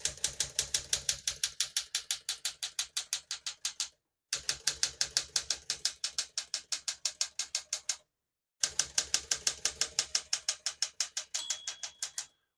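Typing on a 1966 Smith-Corona Sterling portable typewriter, with rapid, evenly spaced key strikes clacking in three bursts separated by brief pauses, close and crisp.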